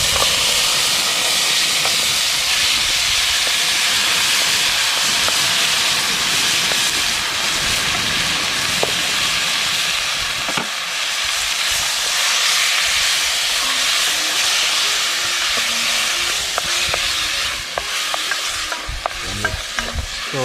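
Chicken pieces sizzle and hiss loudly after going into a hot pot with sautéing garlic for a one-pot stewed chicken and seasoned rice, a steady frying roar with scattered crackles and stirring clatter throughout.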